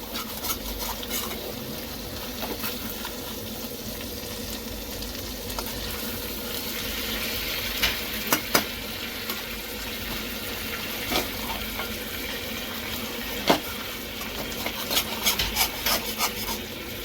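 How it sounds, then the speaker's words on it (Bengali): Chicken pieces fry in a pan with a dense, even sizzle, steady and close, broken by occasional scraping clicks as they are turned to brown every side. "ঘুরিয়ে ঘুরিয়ে চারো ধার ফ্রাই করতে হবে।"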